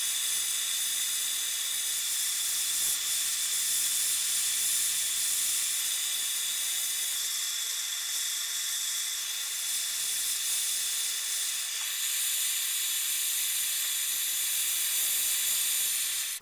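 A steady, loud hiss of heat, likely a torch, played over a dented pipe, continuing unbroken and close for the whole stretch with only slight swells and no talk.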